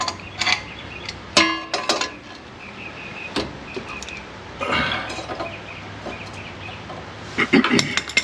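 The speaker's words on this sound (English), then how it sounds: "I'm gonna get it with the breaker bar though" A breaker bar loosening a shock absorber bolt on a Range Rover Classic overland rig: close metallic clicks, creaks and ratcheting bursts come in irregular clusters, with quieter clanks between.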